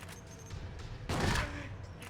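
Gunfire rings out in Silent Hill 2, a heavy burst of shots rising from a steady noisy rumble, loud and close, with muffled voices around it.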